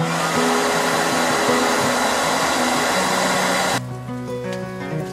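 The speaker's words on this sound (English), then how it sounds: "I use a hair dryer. That's all I need to do." A hair dryer blowing air into a blacksmith's coke forge roars steadily at close range, then its tone drops suddenly to a lower, quieter whir near the end.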